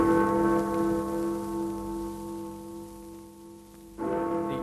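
Big Ben, the large cracked bell in London, rings with a deep, slightly flat sustained tone that slowly fades, then is struck again near the end and resounds loudly.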